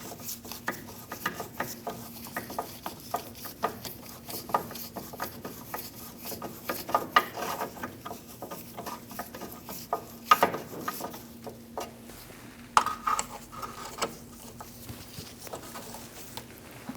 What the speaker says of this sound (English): I'm using my socket to thread them on